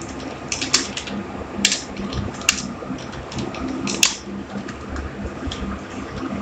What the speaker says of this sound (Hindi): इस तरह मैंने अपने फोनेटिक कीबोर्ड लेकर तेज टाइप किया